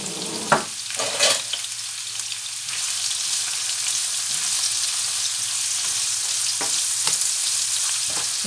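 Onions frying in a pan for a sea bream dish, a steady close sizzle that holds throughout, opening with a couple of sharp clatters as they go into the hot oil.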